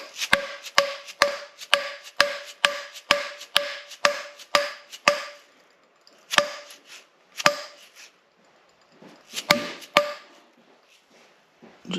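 Sharp metallic-wooden whacks as a supercharger part is bashed onto a shaft with a mallet for a Barra-engined burnout car, a rapid steady series of about a dozen close, loud strikes followed by a few spaced, slower blows.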